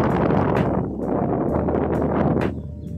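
Strong wind gusting across an airport grounds, roaring into the microphone as loud, continuous buffeting with rushing surges, close and dominant throughout.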